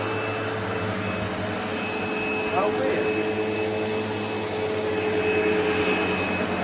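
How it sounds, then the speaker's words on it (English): Sebo Felix upright vacuum cleaner running, a loud steady motor whine and airflow roar that holds throughout, close by, with a person speaking briefly over it. "And now vacuum."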